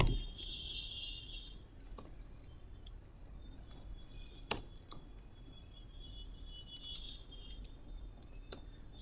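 A commit message is typed on a computer keyboard: soft, scattered key clicks at an uneven pace, with a few sharper taps, quiet and close over a faint background hum.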